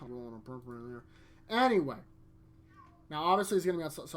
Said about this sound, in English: Sorry, you can hear the cat in the background.